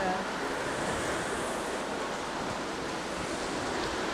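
Ocean waves rolling in along a sidewalk near a wharf, a steady broadband wash of surf mixed with wind rumble, continuous and fairly loud.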